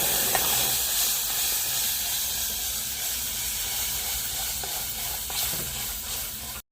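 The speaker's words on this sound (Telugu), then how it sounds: "హల్వా మటుకు బాగా ఉడుకుతుంది కదా" Papaya halwa cooking in hot ghee gives a continuous hissing, steamy sizzle with faint bubbling pops, steady and close throughout with no voices.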